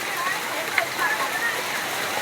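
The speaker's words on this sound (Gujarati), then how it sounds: "એ કરા પડે કે શું હારા કરા પડે" Hail falling during a summer storm makes a dense, steady patter and hiss of hailstones striking surfaces nearby, continuous and even, with one brief sharper hit.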